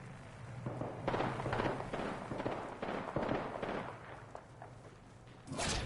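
Gunfire in the battle royale game Apex Legends, with rapid bursts of shots cracking back and forth in a dense, close exchange and a sharp blast near the end, no speech over it.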